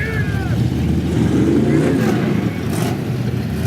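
Loud 1968 Pontiac Firebird rumbling and revving in a Christmas parade, a deep, heavy engine roar with brief swells, heard outdoors along with crowd noise and voices.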